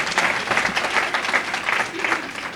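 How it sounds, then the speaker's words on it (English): Sustained audience applause fills a leadership awards ceremony hall, steady dense clapping from a large crowd without pause, with faint voices mixed underneath. "Yes, clap, because that was meant."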